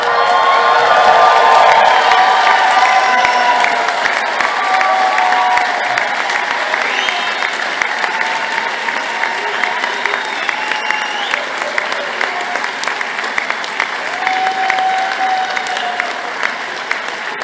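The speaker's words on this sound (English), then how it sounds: "I'd like you to stand up this time to applaud and give a wee Glasgow cheer" Graduates and guests at a Glasgow Caledonian University graduation ceremony applaud and cheer loudly, a dense, sustained wash of clapping with whoops rising over it, tapering slightly toward the end.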